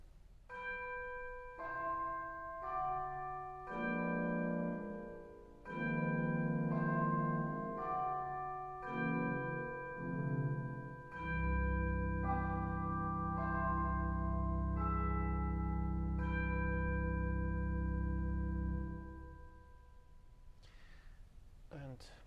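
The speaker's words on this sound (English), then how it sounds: "Also tower bells." Tower bells stop on a 2016 Parsons pipe organ at Holy Trinity Lutheran Church in Buffalo, New York, ringing a series of clear, resonant bell-like struck tones, then a sustained chord that decays into the church.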